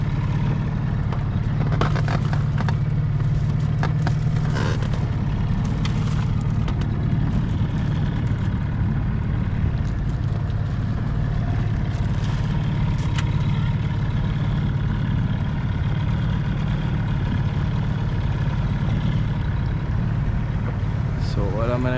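A small outboard motor on a 9'6" Newport dinghy runs steadily throughout, a continuous low drone with water noise while trolling for bottom fish, with a voice talking over it at times.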